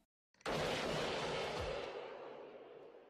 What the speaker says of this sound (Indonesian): Tanpa ampun, Thomas langsung menembak sasaran